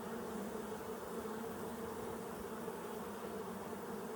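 Honeybees hum on an open hive frame in a Colorado apiary, a steady close drone of many wings at an even level, with no voices.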